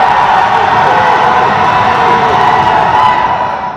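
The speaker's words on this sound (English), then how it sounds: "The crowd letting him hear it while he lined up for that one." A college men's basketball championship crowd, Bard College against RPI, roars loudly and steadily during a free throw, cheering and jeering in a dense wall of voices that eases slightly at the end.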